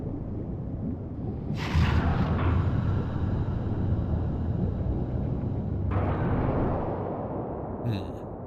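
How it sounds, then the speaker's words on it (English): A giant explosion in a video game, a sudden loud blast that swells into a sustained roaring rumble and debris hiss lasting several seconds before it cuts back to a low background. "so that's the cause of that giant explosion"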